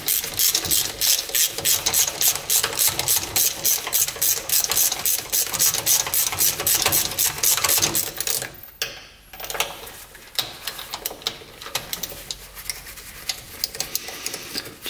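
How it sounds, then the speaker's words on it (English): A 3/8 socket ratchet works on a spark plug in a UTV engine, loud close rapid clicking strokes in a steady rhythm for about eight seconds, then a pause and a few slower, scattered ratchet clicks, with no talking. "So 3/8 socket here. Let's try to get this plug out."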